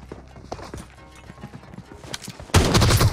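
Sharp gunfire cracks in a team deathmatch video game, a scattered run of shots followed by a loud, dense burst of noise near the end.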